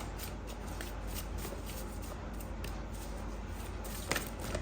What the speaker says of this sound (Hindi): यहाँ पर हम इस डेक से कार्ड्स लेते हैं टू टेक सम गाइडेंस।